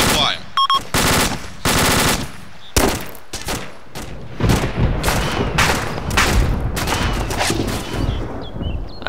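Enemy gunfire in a military simulation game rings out in rapid bursts and single loud shots, sharp repeated cracks with short pauses, close and dominant with faint voices underneath.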